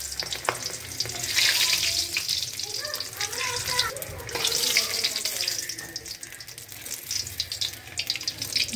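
Papad frying in hot oil in a home kitchen, a continuous hissing, bubbling sizzle that swells and eases over several seconds, heard up close with faint scrapes from a spatula.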